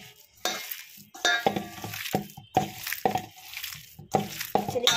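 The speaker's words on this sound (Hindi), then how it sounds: "चलिए मिक्स कर लेते हैं इसको अच्छी तरह से।" Minced meat seasoned with cumin powder for nargisi kofte is kneaded and mixed by hand in a bowl, giving close, wet squelching and mashing pulses in an irregular rhythm with brief pauses.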